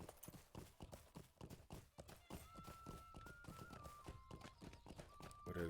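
Steady clip-clopping hooves of a horse ridden in the online game Lord of the Rings Online, a rapid even rhythm of close, moderately loud thuds with a faint tonal line over the top.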